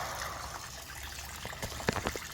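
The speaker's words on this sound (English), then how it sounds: "I saw coolant coming out." Coolant trickling and dribbling out of a Chevrolet Corvette C6 Z06 engine head, a faint, close, steady liquid flow with a few small splashes near the end.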